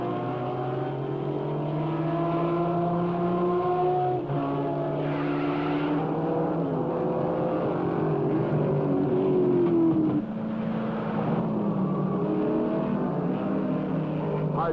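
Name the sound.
Ford Mustang race cars racing at race start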